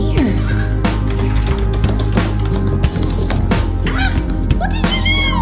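Goats bleat at a farm camp over a dense, continuous wash of background noise, with several wavering calls rising and falling through the clip.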